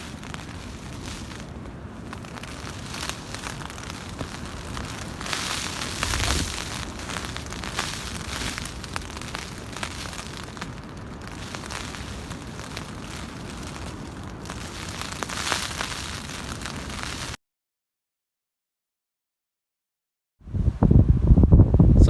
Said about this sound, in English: I survived the stormy night. It's one of the worst I've had actually, and I've had some very windy weather out camping.